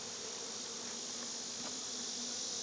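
Honey bees hum around an open hive during an inspection of a struggling colony, a thin, steady drone close by with no voices.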